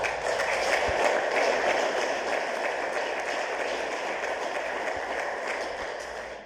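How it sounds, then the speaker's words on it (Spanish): Sustained audience applause at an anniversary ceremony for an astrophysical observatory, a steady dense wash of clapping holding at an even level for several seconds before easing slightly. "se merecen todos esos aplausos."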